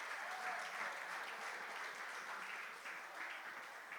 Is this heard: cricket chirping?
no